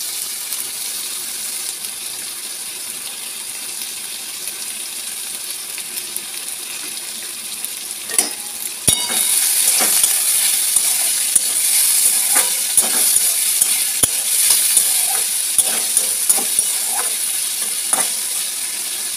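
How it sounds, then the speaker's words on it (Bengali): Potatoes fry in a pan with a steady, bright sizzle that grows louder partway through, punctuated by scattered clicks and taps of a utensil. "চলো এখন ভাজছি গিয়ে আলু ভাজাটা করে নিচ্ছি"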